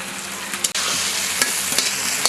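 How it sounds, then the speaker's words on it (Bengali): Chopped onion dropped into hot oil in a pan, a loud, dense, continuous sizzle with a brief dip and a few sharper crackles. "এবারে দিয়ে দেবো পেঁয়াজ কুচি দিয়ে।"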